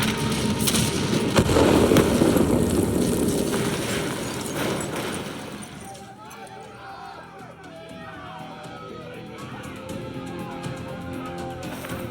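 Explosives detonate in the Call of Duty: Black Ops 3 video game, a heavy rumbling blast for the first few seconds that fades into crackling debris and scattered battle noise, with voices talking over it.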